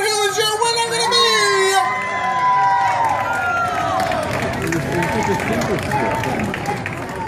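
A crowd at an ice cream eating contest cheers, shouts and claps, loud and lively with voices and whoops layered over steady babble throughout.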